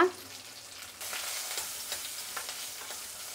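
Mustard seeds, dried red chillies, small red onions and curry leaves frying in hot oil with a pinch of asafoetida, a steady close crackling sizzle with scattered pops, growing louder after a brief stir, no voices.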